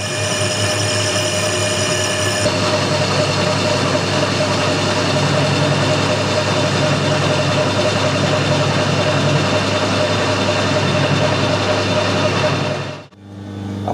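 Metal lathe spinning at 640 RPM while machining a Porsche wheel spacer: a loud, steady motor drone with a constant tonal hum that runs without a break and then cuts out abruptly at the end.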